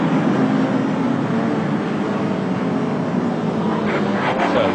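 Ian Simpson's big Suzuki racing motorcycle roars along the circuit, a loud, sustained engine drone that rises in pitch toward the end as the bike pulls away, with no talk.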